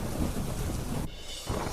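Heavy downpour and thunder in Tapi: dense, roaring rain with a rumbling thunder roll, briefly dipping before the loud wash of rain returns.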